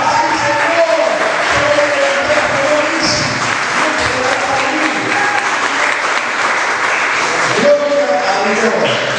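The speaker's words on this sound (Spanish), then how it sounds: "Dale un aplauso al Señor." A large church congregation claps continuously and loudly, a sustained wash of applause with scattered voices mixed in.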